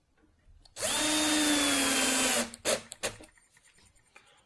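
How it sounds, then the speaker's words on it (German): A power screwdriver drives screws flush into a wooden game board from a quick-assembly kit, giving one steady whirring burst of about two seconds, close and loud, then a few short stuttering pulses and faint clatter. "Und hier auch die Schrauben nur so tief einschrauben, dass sie bündig mit der Spielfläche sind."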